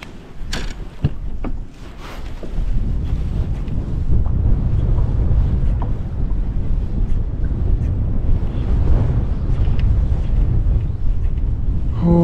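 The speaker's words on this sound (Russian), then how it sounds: "То ветер поднимается бешеный." Strong winter wind at the Veselovskoye Reservoir buffets the microphone in a steady, roaring rush, with brief gusty thumps early on and no voices.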